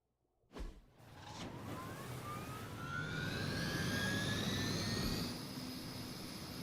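A helicopter in the Marvel's Midnight Suns video game, opening with a sharp thump and then a loud, steady engine roar with rising whine that swells, holds and eases slightly toward the end.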